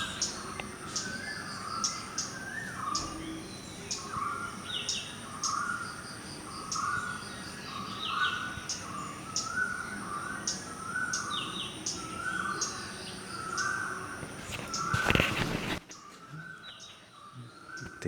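Dawn chorus of many birds warbling, trilling, cooing and cawing, with repeated calls and chirps overlapping steadily for the whole stretch before a brief loud rustle and a sudden drop to quiet.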